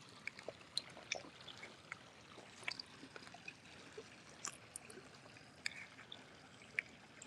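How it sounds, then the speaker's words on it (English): A small stream of water flows and trickles outdoors near a muddy, mineral-crusted bank. It is quiet and steady, with scattered faint drips and splashes and no talk. "I do like listening to the water."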